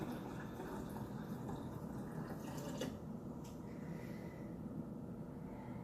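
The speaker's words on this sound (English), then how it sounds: "I'm going to put some of that room temperature water in." Room-temperature water poured steadily into a herbal infusion, a continuous broadband wash of liquid that runs evenly for several seconds with no talk over it.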